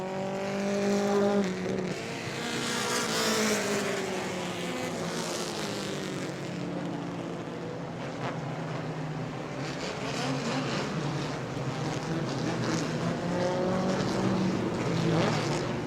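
Sprint race cars roar around a dirt oval at Auburndale, several engines rising and falling together in a continuous loud drone as the pack sweeps from turn 2 through turn 4.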